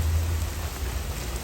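Steady rain falls outdoors, a dense, even hiss with a low rumble beneath it, continuous and fairly close, with no voices.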